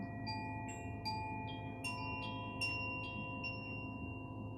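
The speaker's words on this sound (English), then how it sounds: "to the sound of the chime" Soft meditation chime tones ring out in a gentle sequence of several bright, sustained strikes that overlap and fade, heard quietly over a low steady hum with no speech.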